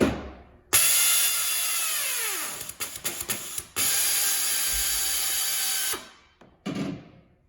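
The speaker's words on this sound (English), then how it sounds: "screw it onto your plus nut gun. And this is, again, air powered." An air-powered plus nut gun sets a nut into the floor of a Ford Transit van: long, loud mechanical whirring runs separated by a few short ratcheting bursts and brief pauses, close up.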